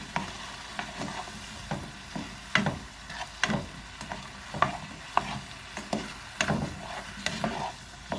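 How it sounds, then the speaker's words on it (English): Butter and sugar being stirred in a pan for a light brown glaze for carrots and cranberries: a soft sizzle underneath regular scraping strokes of the utensil against the pan, repeating about once a second. "And I'm going to stir this in."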